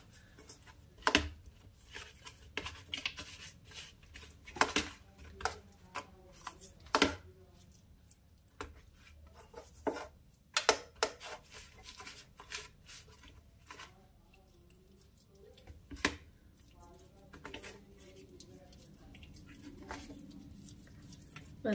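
Soft wet squishing and patting of fish being mixed by hand with salt, turmeric and chili powder, with intermittent sharp clicks and taps, close and quiet, irregular rhythm.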